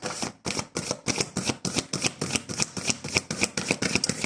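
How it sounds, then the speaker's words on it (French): Oracle cards being shuffled for a card reading, a steady run of crisp riffling bursts about every quarter second, close and fairly loud with no talking. "On va faire le tirage avec l'oracle de la vision intérieure"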